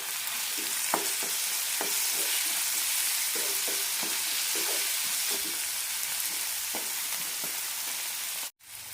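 Onion and tomato frying in a pan for a roasted-coconut potato curry, a steady soft sizzle under repeated light spoon scrapes and stirring taps, with a sudden brief cutout near the end.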